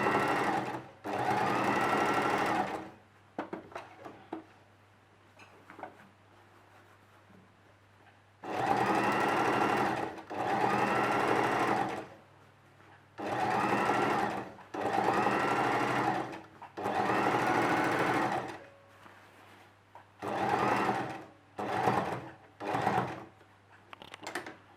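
A sewing machine stitches around a dress sleeve in repeated runs of steady whirring, several seconds each, with short pauses between them. The last runs are quicker and choppier.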